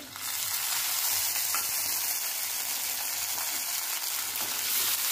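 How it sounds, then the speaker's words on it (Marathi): Finely chopped tomatoes sizzle and fry in hot oil over browned tempering, a dense, steady crackling hiss close up that runs throughout with faint stirring. "टमाटर छान नरम होईपर्यंत आपल्याला भाजून घ्यायचंय"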